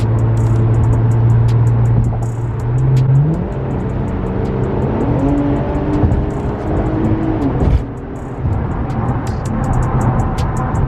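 A Q50 SRT sports car's loud exhaust rumbles and revs up nearby, the engine note climbing and dropping through several pulls, with no talking.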